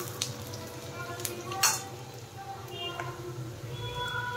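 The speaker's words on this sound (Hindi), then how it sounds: "ये जो अनियन है ये थोड़ा सा फ्राई हो गया" Soft, steady sizzling of onions frying in a kadai, with a few light clinks of a utensil against the pot.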